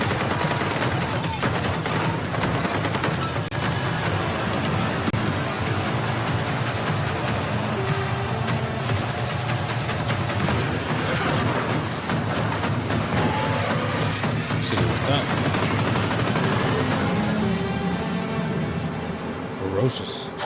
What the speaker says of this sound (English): Nice little AK-12 right there.